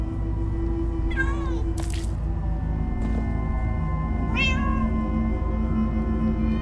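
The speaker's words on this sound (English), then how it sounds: "Okay, here, kitty. Get the fishy." A cat in the video game Minecraft Story Mode meows two or three times, clear drawn-out calls over a steady hum of game background sound.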